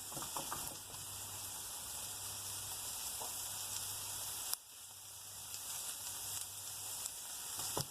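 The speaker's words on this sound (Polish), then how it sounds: "Smażymy minutkę." Steady crackling sizzle of vegetables and tofu frying in a pan, continuous and close, with a brief stir or shift midway.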